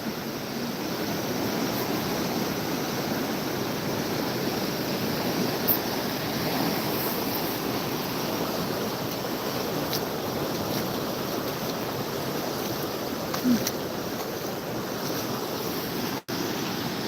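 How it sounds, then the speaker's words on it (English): Flooded White River rushes in a loud, unbroken roar of moving water, broad and steady, with wind buffeting the microphone and no talk. "we're on White River right now, looking at the floods"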